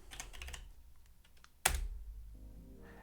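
Keystrokes on a computer keyboard as a short command is typed at a command line, a cluster of quick clicks followed by a single louder key press, then quiet.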